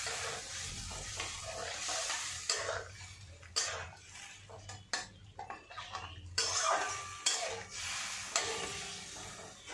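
A spoon scrapes and clatters in a pan as tomato is stirred into the spice base for a boroli fish curry with brinjal, with soft sizzling between irregular close metallic knocks.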